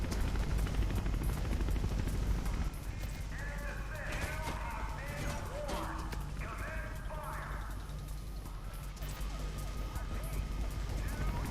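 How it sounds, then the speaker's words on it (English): Helicopter in the video game Mirror's Edge, a continuous rotor thrum under game music and effects, with a player's voice talking over it. "Chopper spotted. Just make a run for it."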